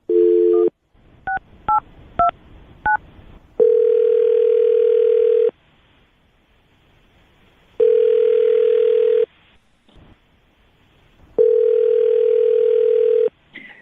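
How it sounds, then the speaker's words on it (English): A phone line plays quick dialing beeps, then a steady tone that repeats in several long bursts separated by quiet gaps, like a ringing line. "I will dial her phone number right now"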